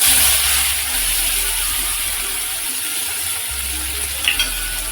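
Finely chopped onions with asafoetida and cumin sauté in hot oil for Maharashtrian jhunka, a soft continuous sizzle and steam hiss close by with a faint clink near the end.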